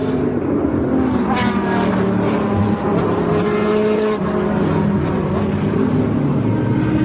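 Corvette GT race cars roaring around the Paul Ricard circuit during an FIA GT race, a loud continuous engine drone with shifting pitch as cars pass close by, no voices.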